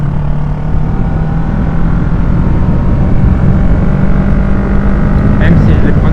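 A Yamaha R6 motorcycle engine drones steadily while riding uphill through curves, a constant close roar with low rumble and some wind, continuous throughout.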